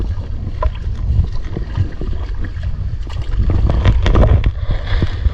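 A paddle works through stream water from a Classic Accessories float tube against the current, with steady close swishing and gurgling splashes, growing louder midway, under light wind noise.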